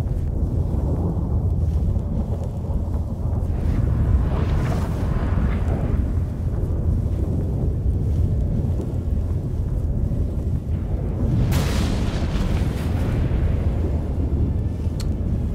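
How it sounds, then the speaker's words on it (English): A storm in The Witcher 3 video game produces a dense, continuous low rumble with wind-like roar, swelling into heavy booms twice. There is no talk. "That a storm?"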